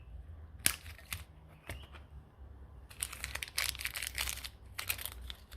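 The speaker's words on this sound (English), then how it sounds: "So I'll just snip open these bolt packet here." A bolt packet for a Suzuki DR650 case saver is snipped open with scissors, giving a few sharp clicks and cuts followed by bursts of crinkling plastic packaging, close up and fairly quiet.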